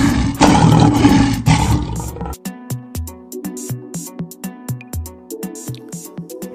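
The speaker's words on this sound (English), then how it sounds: "Lion." A lion gives a deep, rough roar lasting about two seconds. It is loud and close, and a bright repeating musical backing with plucked notes continues after it.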